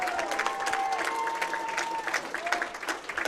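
Applause from a crowd at a boxing fight-club event after a three-round bout, a steady wash of clapping with some cheering, and an announcer's voice running over it.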